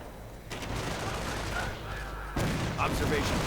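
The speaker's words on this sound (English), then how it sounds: "Grenadiers under fire from the Sherman." In a Company of Heroes-style World War II strategy game, a Sherman tank fires on German grenadiers, and rattling gunfire and battle noise run continuously, with a louder burst near the end.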